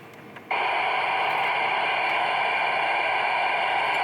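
A radio hiss comes on abruptly after a quiet moment and continues as a steady, loud band of static from a handheld ham radio with a rubber duck antenna, receiving the Grimes repeater 4.3 miles away.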